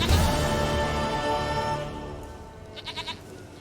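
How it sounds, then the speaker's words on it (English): A goat in The Witcher 3 video game lets out quavering bleats, a strong cry at the start and then a few short pulsed bleats near the end, heard over a soft game background. "Goat of mine! Dearest, sweetest goat!"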